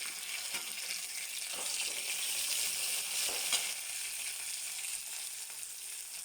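Tomatoes sauté in a pan with a steady, loud, hissing sizzle that holds its level throughout, with only a few faint soft knocks and no voices.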